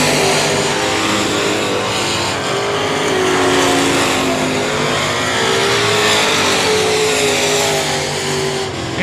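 Stock cars racing at I-37 Speedway roar loudly and steadily, with engine tones sliding up and down as the cars go through the laps, nearby and continuous.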